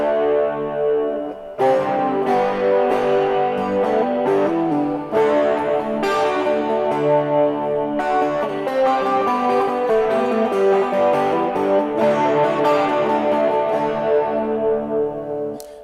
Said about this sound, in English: I'll put the tube screamer, the chorus, and the spring reverb on.